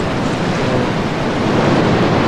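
Ocean waves break on the shore at Kangaroo Island: a continuous broadband roar of surf, loud and steady, with wind noise blended in and no voices.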